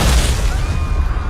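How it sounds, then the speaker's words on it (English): A loud, deep explosion booms and rolls on with a rumbling, crackling tail that fills the whole moment. "Suddenly, an explosion erupted from behind him"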